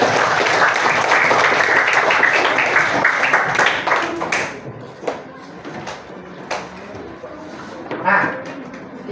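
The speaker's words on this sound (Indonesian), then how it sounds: "Tepuk tangan buat Konita." A fifth-grade primary school class applauds during a maths lesson: a dense burst of close clapping for about four seconds, thinning to scattered claps under voices.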